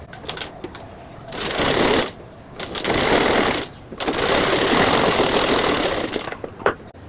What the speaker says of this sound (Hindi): पाइपिंग के ऊपर सिलाई कंटिन्यू करेंगे